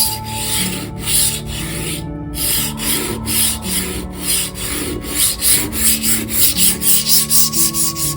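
A cheap kitchen knife is sharpened on a worn grit 400 diamond plate, giving a steady rhythmic scraping rub of close, repeated strokes that grow more regular toward the end, with no talk.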